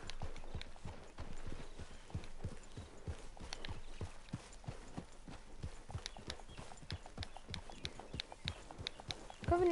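Rapid, steady hoofbeats of a galloping horse in the video game Red Dead Redemption 2, a continuous clip-clop rhythm close by with a rumbling backdrop throughout.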